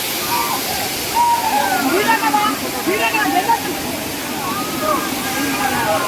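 Steady roar of the Gandahati waterfall in Gajapati, Odisha, broad and continuous, with voices of people chattering in the background.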